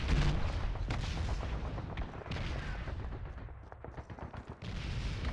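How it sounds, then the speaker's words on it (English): Dense battlefield din in the World War II shooter Call of Duty 2, Big Red 1 campaign: continuous gunfire and heavy explosions, with near blasts punching through a constant rumble of artillery for the whole stretch. "If you could call all these explosions a lull."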